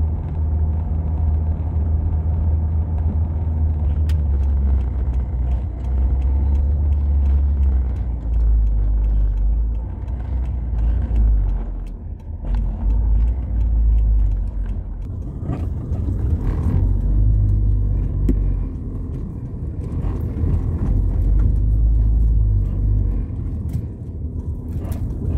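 A car being driven gives a steady low rumble of engine and road noise for about twenty-five seconds, rising and easing slightly with the drive, close to the listener and with no talking.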